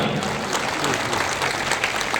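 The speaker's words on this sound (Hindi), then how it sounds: "एक बार ताली बजा दो उनको भी यार" A crowd at a live political gathering for a newly elected Vijayraghavgarh legislator claps steadily for a couple of seconds, a dense, even patter of applause.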